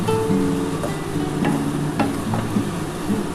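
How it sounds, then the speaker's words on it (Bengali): Spices being stirred into a chicken and egg tarka in a pan, dhaba style: a soft sizzle under repeated scraping and clacking strokes of a spoon against the pan, close and fairly loud. "এবার এই সমস্ত মশলা দিয়ে আমি একটুখানি নাড়াছাড়া করে নেবো"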